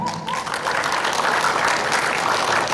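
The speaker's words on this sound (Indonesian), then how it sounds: "Tadi sponsor aktif saya mohon aplaus buat Dokter Gigi Harina" An audience applauds a dentist at a stage event in Bekasi, dense clapping filling the room from near and far, steady and sustained throughout with no clear speech over it.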